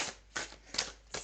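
Tarot cards are shuffled and dealt by hand, a few quick crisp riffling bursts at an even rhythm, close and clear with no talk.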